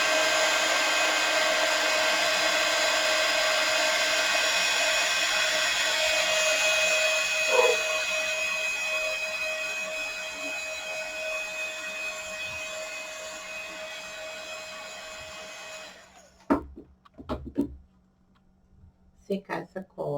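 A hair dryer drying decoupage glue on a craft piece runs loud and steady for about sixteen seconds, then cuts off, followed by a few handling knocks and clatters.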